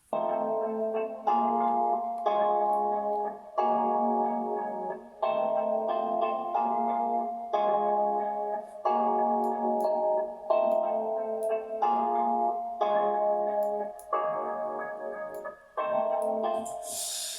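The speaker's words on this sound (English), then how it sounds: "That is the sound of a Rhodes." Warm Rhodes electric piano chords played in a steady rhythmic pattern, sustained and bell-like, with short gaps between phrases.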